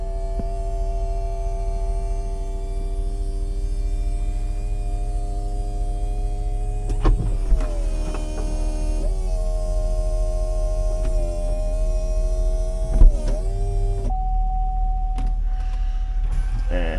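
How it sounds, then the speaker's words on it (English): The power window regulator motor of a 2004 Chevrolet SSR runs with a steady electric whine over a constant idle hum, shifting in pitch as the glass travels and ending with a couple of soft clunks. "That window regulator works."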